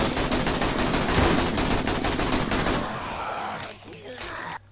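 Rapid automatic gunfire in the zombie survival game 7 Days To Die, Alpha 17, during a day 7 horde, loud and dense bursts for about three seconds, then thinning to scattered noise before cutting off.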